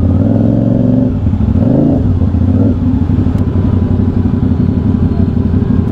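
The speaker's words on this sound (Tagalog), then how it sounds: "So may dalawang big bike dito sa tapat natin." Big-bike motorcycles idling and revving close by at a roadside stop during a night ride in Tagaytay, a loud, steady engine rumble with a couple of throttle blips early on.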